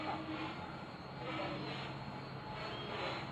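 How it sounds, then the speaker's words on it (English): A homemade fixed-pitch quadcopter without collective pitch flies freestyle stunts, its rotors giving a constant droning whine at a moderate distance, steady and unbroken throughout. "For a quadcopter without a collective pitch, that's pretty good."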